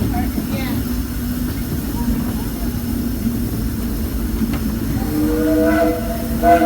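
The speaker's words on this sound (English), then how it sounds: "please remain seated until the train comes to a complete stop" Disneyland Railroad train rolling along its rails, a steady low rumble of wheels throughout with rising tonal squeal toward the end, under a faint background announcement voice.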